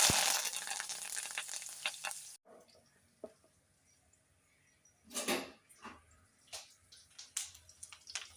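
Curry leaves hitting hot tempering oil in a pan with the stove just switched off, giving a loud opening burst of sizzle that cuts off sharply, then quieter crackles and a few short bursts of spitting and stirring.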